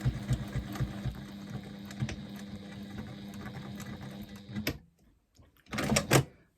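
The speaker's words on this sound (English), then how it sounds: "So we're just going to stitch across the bottom there where that raw edge is, a couple of back stitches at the beginning" A sewing machine stitches across the raw bottom edge of a fabric bag in a steady mechanical whir that stops abruptly, followed by a couple of short bursts of back stitches.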